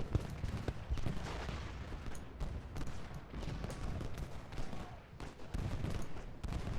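Civil War battle in the strategy game Ultimate General: Gettysburg, with cannon and musket volleys crackling in a dense, continuous barrage of overlapping shots and low booms, fairly quiet and without talk.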